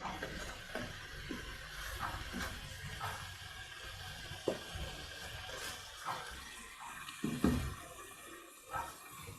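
Water poured into a pot of chicken tomato stew, a steady splashing, trickling flow with a few louder splashes and clinks, close and fairly quiet with no talking.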